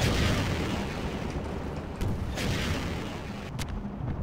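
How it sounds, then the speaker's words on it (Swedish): Gunfire and booming blasts from the video game Half-Life 2 sound in a dense, loud barrage with a few sharper cracks standing out. "Han skjuter igenom glaset ju!"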